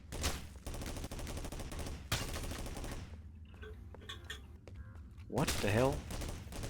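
Enemy soldier gunfire in an old-school Build-engine shooter mod: dense, loud bursts of shots fill the first three seconds, then quieter scattered game sounds follow, with a voice exclaiming near the end.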